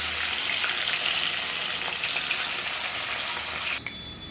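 Small fish frying in hot oil in a pan, a loud, steady close-up sizzle that cuts off sharply near the end, with a few faint clinks afterward.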